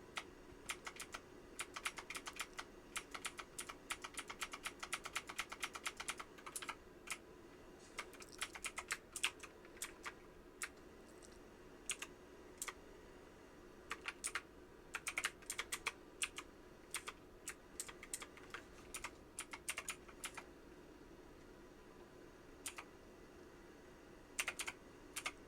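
Mechanical computer keyboard clicking while 18 Wheels of Steel is played, rapid irregular bursts of crisp keystrokes with short pauses, close and fairly quiet over a low background hum.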